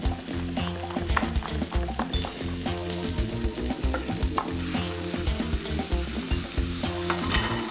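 Sliced zucchini and eggplant sizzle loudly in a well-heated pan, with constant crackling frying and rhythmic stirring scrapes, no talking.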